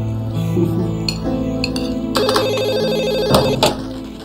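A telephone rings in repeated bell-like bursts indoors, loud and close, with no talking over it.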